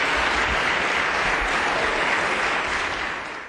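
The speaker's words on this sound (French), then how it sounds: "Une bonne main d'applaudissement au Collège Jean de Brébeuf." Applause erupts for the winning college team at the final of a youth quiz tournament, a thick, loud wall of clapping that holds steady for about three seconds before fading out.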